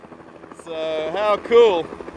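A helicopter on a joy flight over a Russian helicopter exhibition, a loud steady rotor drone with a rising whine, while someone talks over it.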